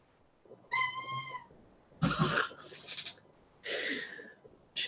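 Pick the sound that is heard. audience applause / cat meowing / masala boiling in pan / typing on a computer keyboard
cat meowing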